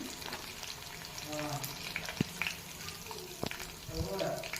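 Onions and spices frying in a pan for wheat rava upma, a low continuous sizzle with a few sharp clinks and scrapes of stirring, close and moderately quiet.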